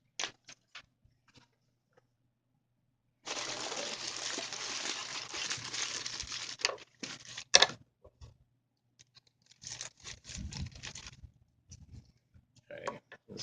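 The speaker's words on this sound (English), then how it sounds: "So we're gonna open up our next box." A Lego mystery box is opened with a burst of crinkling and rustling packaging, followed by scattered clicks and taps of handling, with sporadic quiet noises in between.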